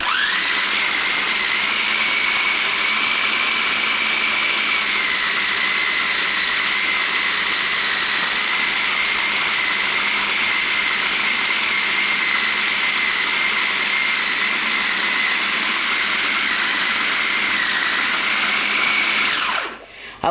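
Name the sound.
Black & Decker food processor chopping bacon pork fat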